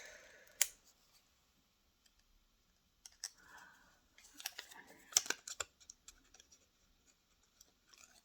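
Scissors cut vellum around letters for a small junk journal ornament, giving sparse, quiet snips and papery clicks, close to the ear, separated by near silence.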